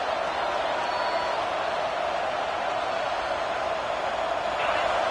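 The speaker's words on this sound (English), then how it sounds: "this crowd is fired up. Listen to this noise here." A large football stadium crowd at an FSU versus LSU game makes a constant, loud, wash-like roar with no breaks, steady from start to finish.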